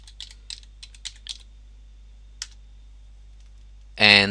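Sparse clicks of someone typing a login name on a computer keyboard, about ten close keystrokes spread over a few seconds in a quiet room, ending as a voice begins speaking.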